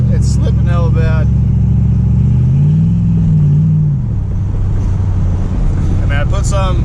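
An LS-swapped OBS truck engine drones loud and close as revs rise and fall with the slipping transmission, a low rumble swelling and sagging, with someone talking briefly at the start and end.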